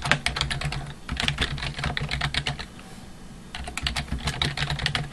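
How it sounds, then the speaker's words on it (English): Fast bursts of typing on a computer keyboard, close and clear, with a short pause in the middle before the keystrokes resume, no talking. "I'm going to type, for instance, the Christmas program entitled Light of the World"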